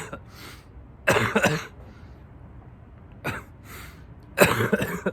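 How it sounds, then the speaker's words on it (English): A few harsh coughs in separate bursts, a double cough, then a single one, then another double, loud and close with quiet gaps between. "but then I just kept coughing."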